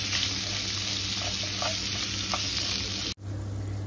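Onion cooks with salt in a pan, giving a steady, loud sizzle with small crackles throughout, cut short by an abrupt drop near the end.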